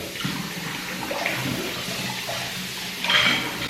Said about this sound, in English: So when I wash dishes, first I give them a good rinse over.